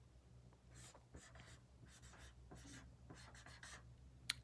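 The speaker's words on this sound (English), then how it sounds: "I'm going to write the word know on my board." A marker writes a word on a small board in short, faint scratchy strokes with brief pauses between them, close and quiet.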